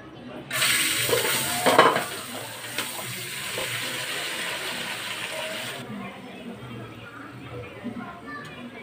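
Whole spices sizzle in hot oil before rice goes into the pot for a home-cooked egg biryani, producing a loud hiss that gradually fades, with brief clinks and stirring scrapes near the start.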